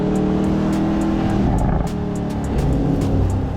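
A 4-litre twin-turbo V8 in a new Aston Martin Vantage accelerates hard, a loud continuous engine roar with shifting pitch and crackles heard from close by, with no one talking.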